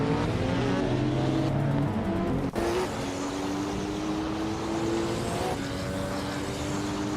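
Race cars roar continuously through a racing video game, engines holding steady sustained tones with shifts in pitch as they accelerate and jostle for position, loud and close throughout with one brief dip midway.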